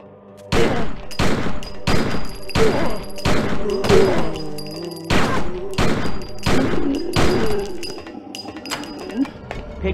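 Gunfire in the Blair Witch video game, a string of about ten loud, evenly spaced booming shots with some background music beneath them.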